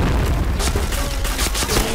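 A heavy booming grenade explosion in a video game fills the clip, loud and dense with rumbling low end and a few sharp bursts over continuous noise.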